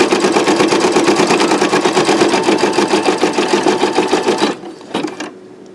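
An old mechanical sewing machine runs loudly with a fast, steady rattling clatter for several seconds, then stops abruptly, leaving a couple of faint clicks.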